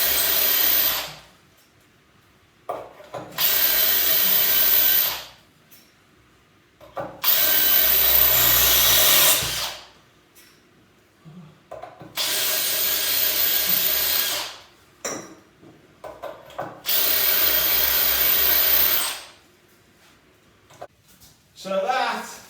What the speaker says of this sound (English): See how many I can drill in a minute.